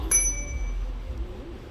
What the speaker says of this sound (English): So that bell means that the pack is turned on and he's able to get that air that's in that bottle.